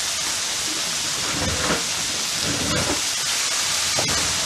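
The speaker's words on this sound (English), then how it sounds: "we got a nice little steam going on here" Food steaming and sizzling on a flat top griddle while cooking skirt steak tacos, a steady loud hiss with faint crackles throughout and no talking.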